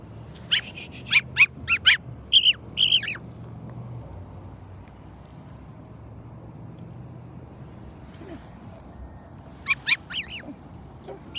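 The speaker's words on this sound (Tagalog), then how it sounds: "Nice bird." A bird calls in bursts of sharp, harmonic cries, several in quick succession near the start and again near the end, with soft low rustling between.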